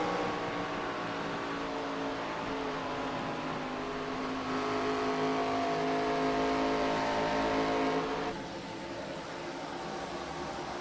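A race car engine in the iRacing sim, heard onboard during an ARCA Series race at Atlanta, holds a loud, steady high-rpm drone with layered harmonics, then drops slightly in pitch and level near the end.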